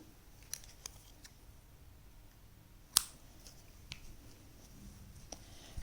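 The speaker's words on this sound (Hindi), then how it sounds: "एक चेन लेंगे, धागा काट देंगे" Scissors snip through crochet thread with one crisp, close cut partway through. Small faint clicks and handling noises come before and after it in a quiet room, with no talking.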